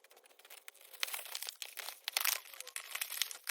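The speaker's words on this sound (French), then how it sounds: "Je vais ouvrir le display, prendre un des petits coffrets Rosemary." Crinkling and tearing of plastic and cardboard packaging as a Pokémon card display box is opened, close and fairly quiet, with irregular rustles and crunches.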